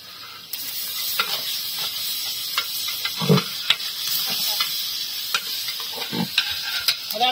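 Ginger paste fries and is stirred in a pan during village cooking of a Telangana mutton curry, a constant close sizzle and hiss with scraping stir strokes, while people talk nearby.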